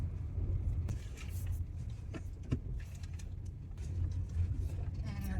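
A brand-new car rolls along a rough road, its low engine and tyre rumble steady and fairly quiet inside the cabin, with a few small knocks and clicks.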